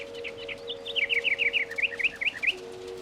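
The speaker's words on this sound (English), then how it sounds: "A little bird is singing near his window." A small songbird sings near a window, a run of quick bright chirps and twittering notes repeating over about three seconds, fairly close and clear above a steady low hum.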